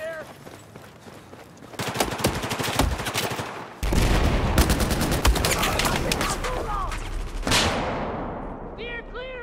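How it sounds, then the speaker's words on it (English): Heavy gunfire in Battlefield 4 on the Dragon's Teeth Lumphini Garden map: dense overlapping automatic bursts and shots, loud and nearly continuous, building after a quieter start and tapering near the end, with brief voice-like sounds mixed in. "I'm taking heavy fire over here!"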